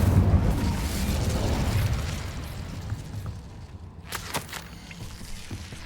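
The Incendio fire spell from Hogwarts Legacy bursts with a loud rushing whoosh of flame that rumbles and decays over several seconds, ending in a few light crackles and footsteps.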